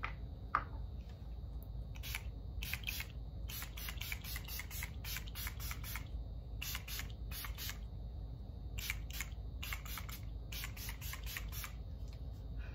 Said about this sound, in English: So I'm gonna spray that on.